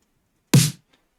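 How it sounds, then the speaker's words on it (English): Punchy dubstep kick and snare samples hit once together, a deep thump under a bright noisy crack, loud and close, then a short tail into silence. "So main kick, main snare."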